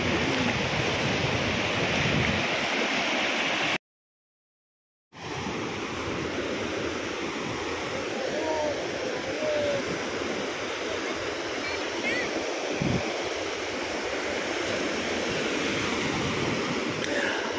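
Rough sea surf roars in a constant wash of noise with wind buffeting the microphone, broken by one brief gap of silence.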